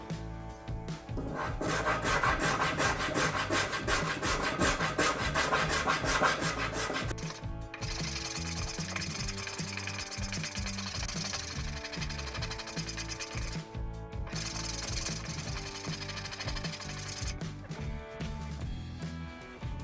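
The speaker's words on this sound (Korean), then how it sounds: "저는 스포크 쉐이브도 써보고 저도 오랜만에 해서 끌도 쳐보고 여러 가지로 작업을 할게요" Spokeshave and chisel shaping the wooden seat of a Maloof-style rocking chair, giving steady close rasping and scraping strokes, dense at first, then a slightly softer run of cuts with brief pauses.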